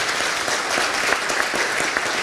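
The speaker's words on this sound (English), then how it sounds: "Please join me to give a round of applause to our speakers." Conference audience applauding speakers at a semiconductor supply chain resilience summit, a dense, steady round of clapping filling the hall with no talk over it.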